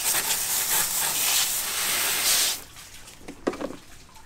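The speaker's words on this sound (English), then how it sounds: "let's rinse off our table a little bit." Water sprays hard across a scaly ladyfish cleaning table and knife, a loud steady hiss for about two and a half seconds before cutting off, followed by a few faint drips and clatters.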